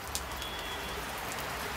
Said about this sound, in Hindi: बाहर आप देख सकते हैं बहुत ख़तरनाक बारिश हो रही है